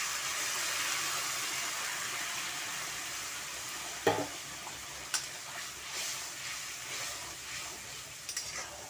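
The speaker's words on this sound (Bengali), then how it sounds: "এখন আমি গরম জল দিয়ে দিচ্ছি" Hot water is poured into fried spices and potatoes in a pan, a continuous frying hiss with a sharp sizzling burst at the moment it hits, followed by scattered stirring clinks.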